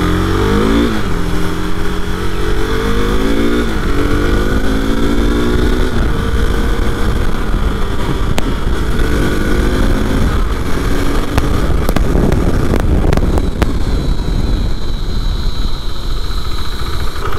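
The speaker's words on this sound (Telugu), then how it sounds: "సో ఫస్ట్ అయితే మనం బైక్ రైడ్ చేసేద్దాం రైడ్ చేసి చూద్దాం" A KTM RC 390 motorcycle ridden in overcast, pre-rain weather, its engine revving and rising through the gears in a loud, steady, close drone that climbs and drops repeatedly.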